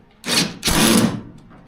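A socket wrench tightens a motor mount on a Subaru 2.5L engine fitted in a 1982 VW Westfalia, giving two close, loud bursts of rapid ratcheting rasp, the second longer, with no talk.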